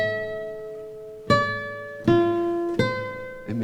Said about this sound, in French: c'est juste de la guitare, du jazz manouche.